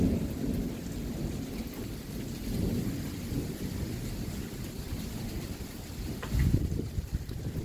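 Thunder rumbles low and steady through a rainstorm, with continuous rain on surfaces and a louder rolling boom near the end, no voices present.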